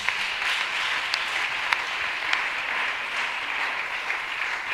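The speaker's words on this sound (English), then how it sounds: "Come on, keep the clapping going." Congregation applauding at a memorial service, a steady even patter of many hands clapping continuously, with a few sharper individual claps standing out.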